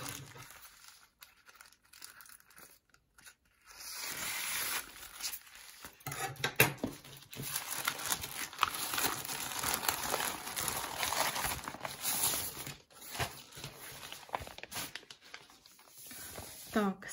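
Cross-stitch embroidery kit parcels being opened one after another, with crinkling and tearing packaging, rustling film and light clatter running steadily close by, and a voice talking partway through.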